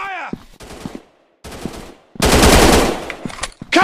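Bursts of automatic gunfire crackle loudly in an FPS commando Android game, with short rattling volleys between pauses and in-game voice lines nearby.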